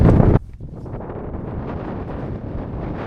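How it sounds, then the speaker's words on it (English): Strong wind buffets the microphone on a Lake District fell near Red Pike in a loud rumbling blast, then settles into a steady gusty roar. "Very windy as well now, so I hope you can still hear me."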